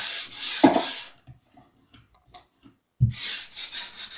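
Sandpaper rasps along the wooden fretboard of a Jazz Bass neck in two short bursts of rubbing, loud and close, separated by a quiet pause with faint scuffs.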